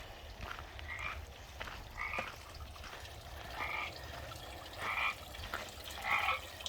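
Frogs croak at Barrel Springs along the Pacific Crest Trail, repeated trilling calls arriving in regular bursts about every second and a half over a quiet outdoor background.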